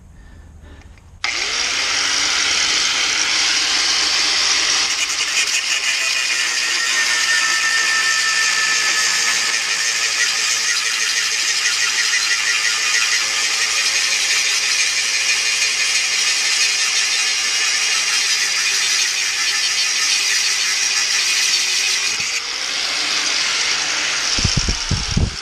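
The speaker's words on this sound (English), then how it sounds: "let's see if this angle grinder will cut this bolt off pretty easy" An angle grinder cuts through a steel bolt on a wood chipper tow bar project, a loud, continuous high-pitched grinding whine held steady for about twenty seconds before spinning down.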